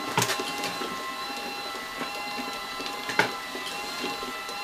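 LAB500 automatic labeler machine running steadily at a low level, a soft mechanical whir with several sharp clacks and clicks scattered through it.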